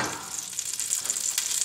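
Butter puddled in a 10-inch skillet sizzles and crackles steadily, a bright continuous frying hiss with small pops, close up and with no talking.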